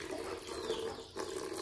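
Water poured to refill a drinking container for pigeons and rabbits at a small home animal enclosure, a steady close trickling gush running throughout with a brief dip partway.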